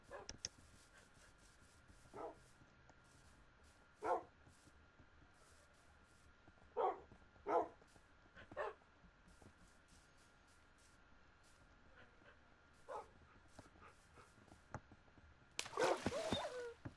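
Dogs in the video game Far Cry New Dawn give several short, separate barks at a moderate distance over a steady game background, followed by a louder burst of noise at the end.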